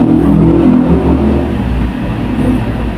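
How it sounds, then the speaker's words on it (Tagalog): A motorcycle engine hums and whirs steadily as it passes outside a house, loud and close at first and then easing slightly as it moves away. "may dumaan na motor"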